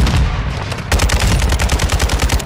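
Rapid automatic gunfire from Call of Duty Modern Warfare II rattles in a fast, even burst of loud shots, preceded by a short stretch of lighter rumble and scattered fire.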